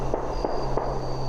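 Guns fired at a tree stump, three evenly spaced sharp reports about a third of a second apart over a steady low hum, moderately loud and somewhat distant.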